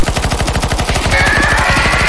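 Rapid automatic gunfire in the CS:GO zombie escape mod, a loud, fast regular burst of shots with a sustained tone rising over the second half.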